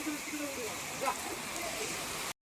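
Steady rain hisses across the whole clip, a dense wash of drops with faint voices underneath, ending abruptly.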